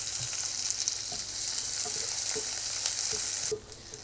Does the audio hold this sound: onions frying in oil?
yes